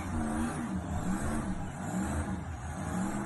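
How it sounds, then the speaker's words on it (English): Car with a supercharged LSA engine revving, a steady loud mechanical roar with shifting engine tones and a whirring hum throughout, heard from close by. "This car sounds sick. Yeah, it's a supercharged LSA."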